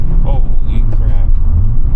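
An Audi S6 Avant with a tuned ECU chip accelerating hard, a loud low engine roar from inside the car, with a voice talking over it.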